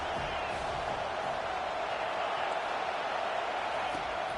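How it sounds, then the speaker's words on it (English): A football stadium crowd at a college game between Washington and Penn State roars steadily throughout, a dense and unbroken wall of cheering noise with no clear pauses. "This crowd bringing the energy and noise early."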